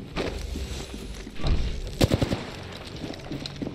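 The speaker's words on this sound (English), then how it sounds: "The enemies are shooting at me." Bursts of gunfire in the battle royale game Apex Legends, scattered shots and a quick rattling volley in the middle, fairly close, with thuds and game sounds between.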